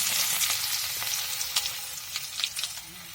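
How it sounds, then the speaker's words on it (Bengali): Garlic and bay leaf frying in oil in a wok, a steady hissing sizzle with a few light crackles and pops, close and moderately quiet, with no talk. "কড়াতে দিয়ে দিলাম তেল, তেজপাতা,"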